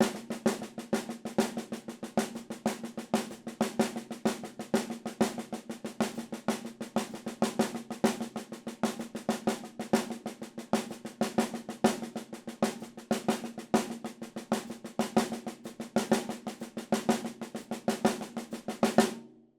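Rapid, continuous snare drum strokes playing a six-stroke roll exercise in a steady pattern for a long stretch, with recurring accents and no voices.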